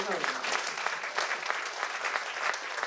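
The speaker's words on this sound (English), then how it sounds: "Give him a round of applause." Audience applause at an Indian Arrival Day celebration in Debe, a steady wash of many hands clapping at moderate distance, even and unbroken, with no talking.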